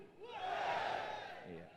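A seminar audience shouts together in one loud, swelling collective yell that rises, peaks and fades out over under two seconds.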